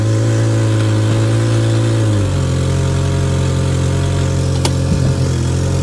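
A classic Honda Accord engine idles loudly and steadily nearby, then drops to a lower, rougher hum after a couple of seconds, with a brief sharp click near the end.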